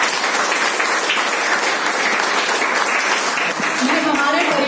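Audience applause at a distributor training session, steady dense clapping from a crowd filling the whole stretch, with a voice coming in near the end.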